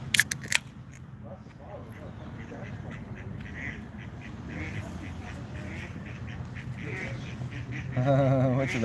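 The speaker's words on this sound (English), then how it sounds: "Oh my god, so many quacks." Ducks quack in short, scattered calls, with a louder burst of quacking near the end while people talk nearby.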